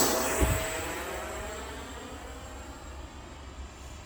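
A Freewing 64mm F-22 Raptor model jet's electric ducted fan whines steadily outdoors, fairly faint, with a brief bump near the start and a smooth, slowly fading tone.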